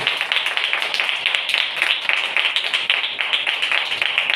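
Church congregation applauding during a sermon, a dense and steady round of hand clapping that lasts the whole stretch at moderate loudness.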